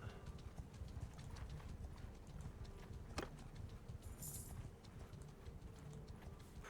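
Steady clip-clop of horse hooves at a brisk trot in Mount & Blade II: Bannerlord, continuous throughout, with a faint rumble of ambient game sound underneath.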